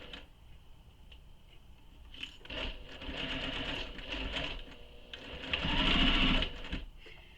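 A sewing machine stitches off the edge of satchel fabric in a steady mechanical whir that builds to a louder burst near the end before stopping, close and alone.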